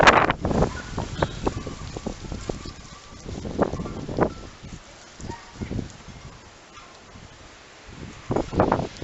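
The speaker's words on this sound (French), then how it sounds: "Regardez ça, le vent il s'est levé d'un coup." Strong gusts sweep through a vegetable garden, buffeting the microphone in loud irregular bursts of rumbling rustle separated by quieter lulls.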